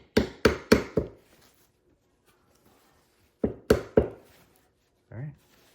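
Rubber hammer tapping a small furniture part on a rubber mat, with a paper towel between, during assembly of a Genpo desk chair: three quick close knocks, a pause, three more, then a softer thud.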